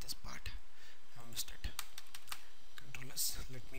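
Computer keyboard keys clicking in quick irregular bursts, close and fairly quiet, while a person talks softly over the typing.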